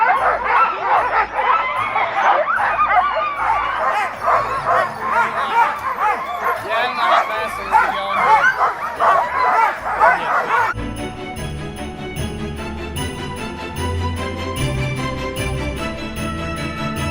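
Sled dogs barking, yipping and whimpering during a rest stop on a snowy dogsledding outing near Aspen, a busy chorus of excited calls, close and loud.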